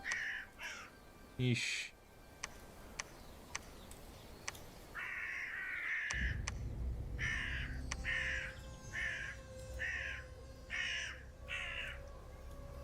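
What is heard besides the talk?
crow cawing sounds in the video game Dominions 6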